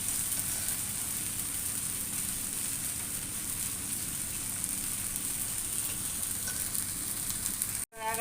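A tomato dosa sizzles in oil on a hot pan, a steady hiss with a fine crackle that sounds almost like rain, continuous and close before a brief cut near the end, with no speech.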